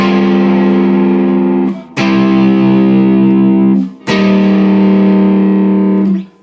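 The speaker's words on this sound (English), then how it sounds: "and then the chords come in" An electric guitar strums three long, distorted chords from the Minecraft movie song. Each chord rings out loud and close with brief gaps between them, and no one talks.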